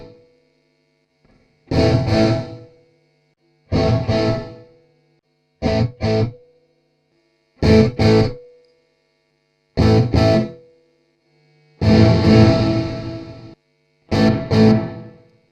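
Distorted electric guitar played through an Audient Sono recording interface with reverb, heard as seven separate bursts of strummed chords with brief pauses of silence between them, no talking.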